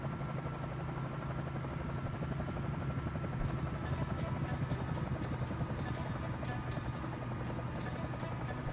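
A helicopter in Microsoft Flight Simulator drones steadily with a constant low rotor hum and turbine whine, sustained and fairly loud throughout, with no talk.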